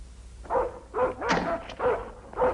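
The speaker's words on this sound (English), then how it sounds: "Stop barking." A dog barks several times in quick succession, medium-pitched woofs at close range with short pauses between them.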